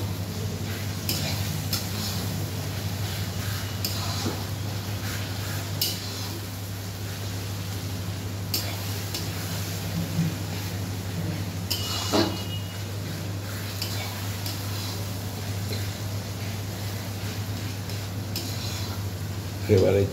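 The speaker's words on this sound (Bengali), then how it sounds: "এবারে চিকেনগুলো দেবে, দিয়ে ভালো করে ওইগুলোর সঙ্গে মিশিয়ে নিয়ে নাড়াচাড়া করে একটু কষবে" Marinated chicken with spices is stirred and fried in a pan, giving a soft continuous sizzle with intermittent scraping and clinks of a spoon against metal, under a steady low hum.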